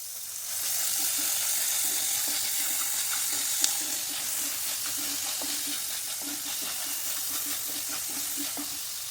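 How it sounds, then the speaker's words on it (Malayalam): Ingredients for a simple chicken curry sauté in a pan, a soft steady sizzle with faint regular scraping strokes of stirring, one brief clink partway through. "നല്ല ബ്രൗൺ കളറാവുന്ന വരെ ഒന്ന് വഴറ്റിയെടുക്കാതെ"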